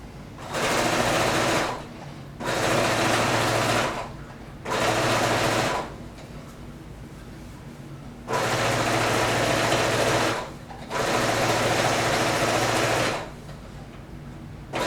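Sewing machine stitching a seam across a quilted tote purse, five steady bursts of fast, even whirring of about one to three seconds each, separated by short pauses, close and loud.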